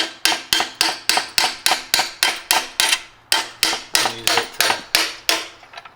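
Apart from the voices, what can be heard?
hammer striking bolt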